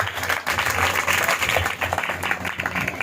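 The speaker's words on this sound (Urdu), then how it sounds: "تالیوں کے ساتھ ویلکم کریں گے۔" A church congregation claps loudly and continuously in welcome during a service, a dense steady roar of applause with no pauses.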